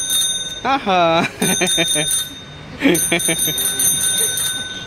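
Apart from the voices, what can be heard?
small bell being rung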